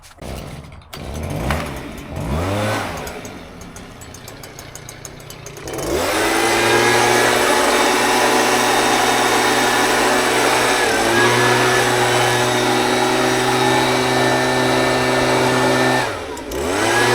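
A big gas-powered blower clearing debris off a roof roars loud and close, running steady after a few uneven revs and surges.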